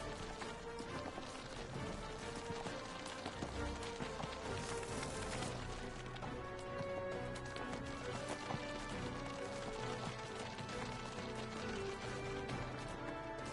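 Horse hooves clip-clop in the Neverwinter video game, a steady, quiet run of hoofbeats with no talk over it.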